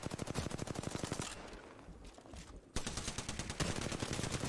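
Rapid bursts of automatic gunfire in the video game Apex Legends, loud and steady, with a short gap before the firing resumes, and no talk.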